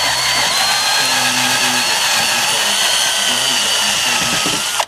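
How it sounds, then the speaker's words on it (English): A power drill bores a hole behind the seal in a 4L80E transmission pump, a loud, high-pitched continuous whine with grinding texture that runs steadily and then cuts off abruptly at the end. "is drill the hole behind the seal."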